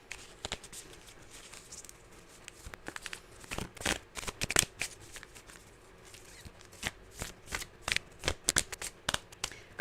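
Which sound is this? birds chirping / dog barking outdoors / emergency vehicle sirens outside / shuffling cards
shuffling cards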